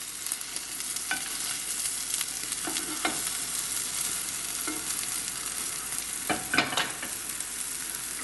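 Food frying in a pan hisses steadily while a utensil flips it, producing a few distinct scrapes and knocks spaced across the sizzle; no voices.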